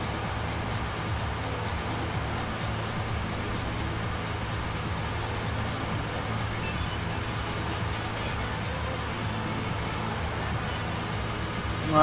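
Steady loud truck engine drone in the Rig n Roll driving game, a constant broadband rumble with road noise holding evenly throughout, no talk over it.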